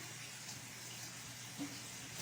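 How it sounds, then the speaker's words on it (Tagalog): Water runs from a household tap into a sink, a faint, steady hiss heard from a little distance with no talking. "Liam, off na water, Liam."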